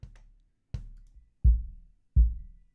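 Four kick drum hits processed through Ableton's Corpus resonator effect: deep, boomy thumps with ringing tonal tails, the last two heavier and fuller, spaced evenly and dry with no talk.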